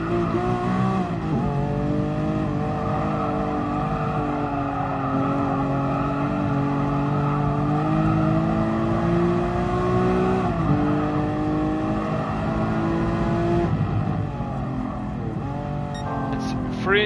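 Lamborghini race cars, including an Aventador and a Countach, compete in the game Gran Turismo Sport, with a loud, continuous engine drone that rises and falls through gear changes and ends in a brief burst of revving near the close.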